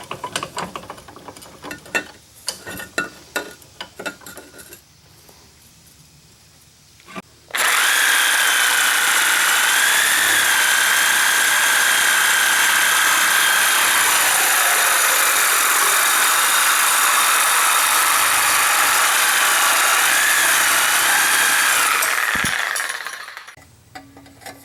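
A power tool cuts through the exhaust pipe of a 1960 Ford F100 4x4 farm truck, a loud continuous high-pitched grinding whine that runs steadily for about fifteen seconds and then stops, after quieter clattering work sounds.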